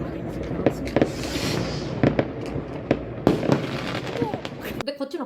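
New Year fireworks in Slovakia boom and crackle in repeated bursts, some near and sharp, others rumbling in the distance, while people talk over the continuous popping.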